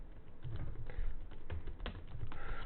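Steady, close typing on a computer keyboard while code is written, with quick irregular key clicks and a few louder strokes running continuously, with no voices.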